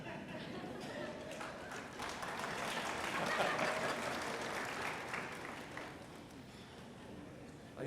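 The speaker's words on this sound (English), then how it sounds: "that's another opportunity for applause" A large audience at the Kent State East Liverpool campus 2016 graduation ceremony applauds at length, a dense, even roar of clapping heard from within the hall.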